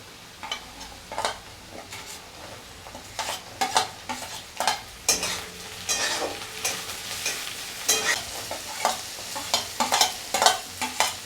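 Chopped beans and carrot frying in oil for egg pasta, stirred repeatedly, a steady sizzle broken by rhythmic scraping strokes of a spatula every second or so, close up, no talking.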